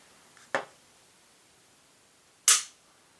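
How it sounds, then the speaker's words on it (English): Two sharp metallic clicks from a Glock pistol's trigger resetting, close and crisp, about two seconds apart in an otherwise quiet room. "And that click is the so-called trigger reset."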